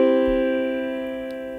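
A tonic chord, do-mi-sol, is struck once and rings out alone as a clear, sustained harmony that slowly fades over under two seconds.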